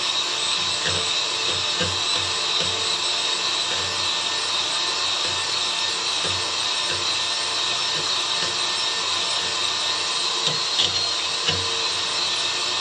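A blender runs continuously while mixing homemade mayonnaise, a steady, loud whirring motor hum with no pauses for the whole stretch.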